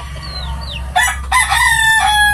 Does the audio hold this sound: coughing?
no